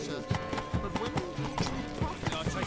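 Roach, a horse in The Witcher 3 video game, trots with quick, regular clip-clop hoofbeats and gives a short whinny, close and moderately loud under background game sound.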